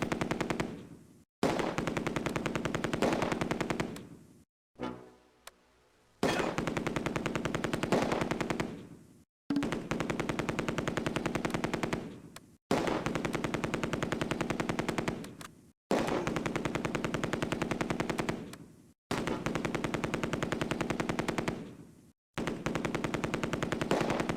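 Sustained machine gun fire from a rail depot in the WWII strategy game Close Combat: A Bridge Too Far, at Arnhem, loud continuous bursts of rapid shots broken by several brief pauses, no talking.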